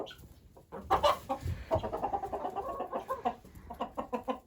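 Hens cluck steadily on a homestead, a close, busy stream of short clucks and murmurs from several birds, fairly quiet with no talk.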